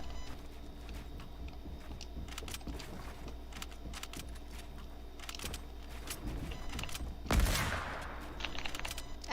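Video game gunfire, a dense rattle of rapid shots and clicks under a steady low hum, with one louder burst near the end and no talking.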